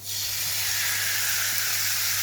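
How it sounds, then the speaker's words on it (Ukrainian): Loud, steady hiss of meat sizzling in two tablespoons of oil in a hot frying pan over high heat, continuous and close, with a low electrical hum underneath. "Розгрілася у мене вже сковорідка, 2 столові ложки олії я налила, викладаю м'ясо"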